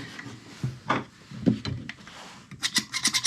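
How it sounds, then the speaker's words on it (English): A magazine tube nut being unscrewed on a Remington 870 Express Magnum shotgun, heard as close, scraping metal rubbing in short uneven bursts that end in a quick run of sharper scratches. "going to take the nut off the end of the magazine tube"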